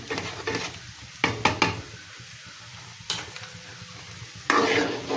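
Taro stolon curry with sugar and ghee stirred in a pan: a few sharp spoon scrapes and knocks over a soft background sizzle, with pauses between strokes.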